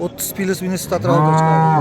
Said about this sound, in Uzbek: Katta sigirlar.